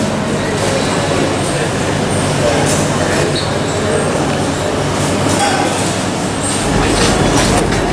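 Steady rumble of a train rolling past with rhythmic rail clatter, continuous and fairly loud, over a busy Indian railway station platform hum near Hampi with faint voices.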